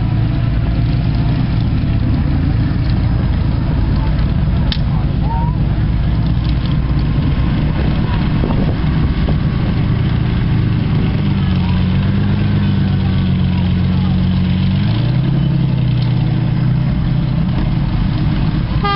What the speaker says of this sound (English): Listen to that exhaust, ladies and gentlemen.